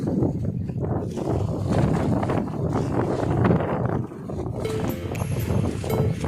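Wind gusting over a small fishing boat out at sea in choppy, fairly big waves: a loud, continuous rush and buffeting on the microphone, with faint creaks and knocks from the boat.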